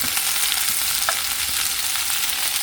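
Food sizzles in a little olive oil in a pan, a continuous, fairly loud close hiss with faint crackles throughout and no voices.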